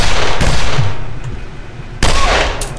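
Loud gunfire from the video game The Ship, two heavy shots a couple of seconds apart, each leaving a long roaring decay, close and dominant with no talk.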